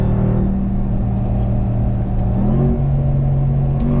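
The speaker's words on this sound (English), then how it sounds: "Listen to that supercharger." Supercharged RAM TRX pickup at the Nurburgring, its engine droning loud and close with a rising pitch partway through as it accelerates, a thick low rumble under a faint supercharger whir, and no one talking.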